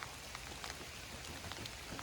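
Rain falls steadily on a work site where a Ford Transit van conversion is underway, a dense even patter of drops on surfaces, quiet and continuous with no voices.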